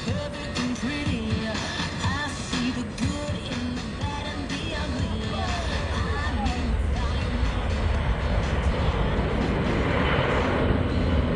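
A military jet takes off and pulls into a steep departure climb about 30 degrees nose up, its engine roar building steadily louder while an announcer talks over it.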